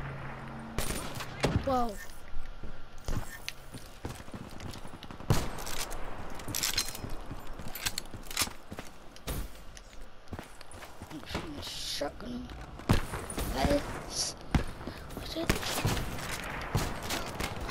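Rapid bursts of automatic and single gunfire crackle throughout a Call of Duty Hardpoint multiplayer match, close and loud, with footsteps and game announcer lines mixed in and a player talking and exclaiming over the action.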